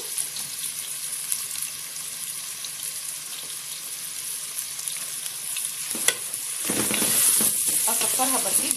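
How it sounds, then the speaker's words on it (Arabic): Onion hitting hot oil in a pan and frying, a steady broadband sizzle throughout that swells louder near the end, with a few stirring scrapes and no talk. "الزيت سخن اهو، هنزل عليه بقى بالبصله"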